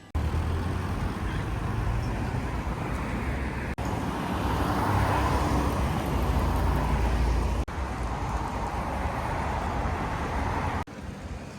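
Car driving through the city of Blagoveshchensk, a loud steady roar of engine and road noise from inside the vehicle, broken by a few brief dips, with no talking.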